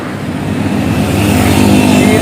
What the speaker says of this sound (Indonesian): Dan ini juga bus Sumber Jaya masih melintas dengan cepat,